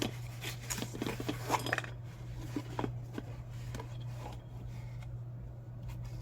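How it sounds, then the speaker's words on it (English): A metal spoon clinks faintly inside a small glass jar with a lid, light scattered taps and rattles over a steady low hum, quiet and close. "Oh, because there's the spoon. Okay, that's what I'm hearing."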